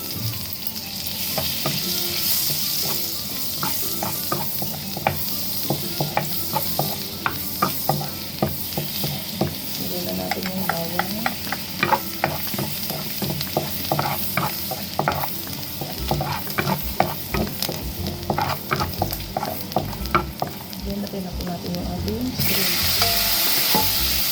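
Onion leek and shrimp stir-fry in butter and oil in a pan, a steady close sizzle with frequent clatter and scraping of a utensil stirring throughout, no talk.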